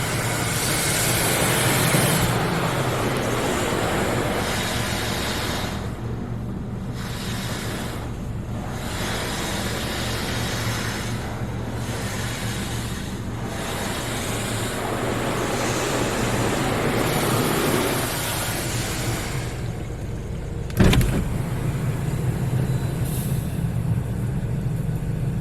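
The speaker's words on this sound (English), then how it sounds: "Spot-free lens water is now being applied to your vehicle." A steady, loud hiss of spot-free rinse water spraying continuously from automatic car wash jets onto a vehicle, with a brief thump near the end.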